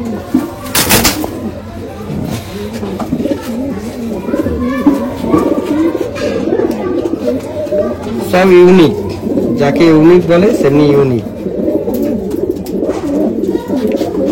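Rampuri pigeons coo repeatedly at close range in throaty, rolling calls that overlap one another, with someone speaking Bengali over them and a brief sharp knock near the start.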